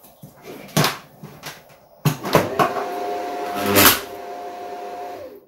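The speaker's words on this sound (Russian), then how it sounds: "вы услышите, как будет переключаться данное реле." An automatic transfer switch relay switching over from mains power: a sharp mechanical clack, then a second louder click with a brief hum, in a quiet room.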